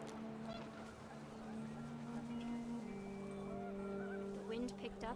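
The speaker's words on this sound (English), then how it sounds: "The wind picked up, and panicked geese appeared and quickly went." Panicked geese honk in the video game What Remains of Edith Finch, a few sharp calls rising over a steady wind-like drone and sustained musical tones.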